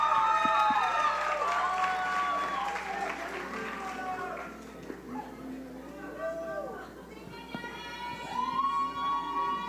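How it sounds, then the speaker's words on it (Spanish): Audience applause greets a speaker at a HowToLife event in Monterrey, México, a dense, steady clapping that fades over time, mixed with crowd chatter and raised voices, with another short swell near the end. "Un aplauso para Emilio"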